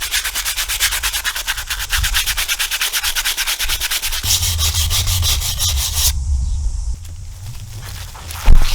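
Scrubbing the sandpaper belt of a drum sander clean, a loud continuous rasping rub with fast regular strokes, close and steady throughout, briefly changing texture near the end.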